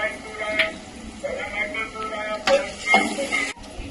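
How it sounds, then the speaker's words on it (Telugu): Onion paste sizzling and being stirred in a pan while a prawn curry is cooked, with soft frying hiss and scraping strokes under a voice talking. "ఉల్లిగడ్డ పేస్ట్ అండి. ఉల్లిగడ్డ ఎర్రగైందండి."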